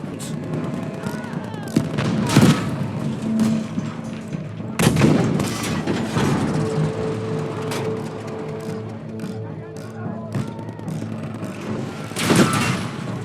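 Gunfire in a video game, with loud close shots and bursts at irregular intervals over a dense rumbling battle background, and voices shouting in between.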